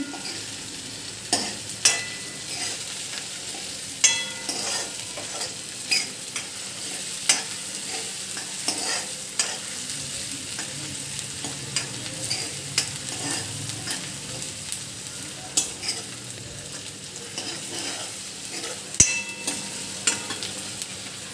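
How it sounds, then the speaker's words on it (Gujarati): Onions frying lightly in a pan for pav ragda, a steady broadband sizzle with repeated stirring clicks and scrapes throughout, close and moderately loud with no talking. "હવે આપણે ડુંગળી નાખીશું ડુંગળી આપણે હલકી સોતે કરવાની છે"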